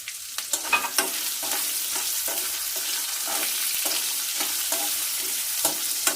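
Coconut pieces sizzle briefly in a pan while being stirred for a coconut chutney, a close, steady frying hiss broken by regular scraping strokes of a spoon, with no voices.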